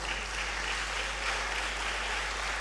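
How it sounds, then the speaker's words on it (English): Audience clapping at a university academic awards ceremony, a steady, fairly faint wash of applause heard from a distance without talk. "I believe that you should clap for the university"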